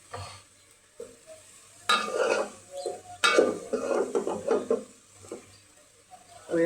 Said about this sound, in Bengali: আমি এটা একটু ছড়িয়ে দিলাম যাতে একটু ভালোভাবে ভাজা ভাজা হয়।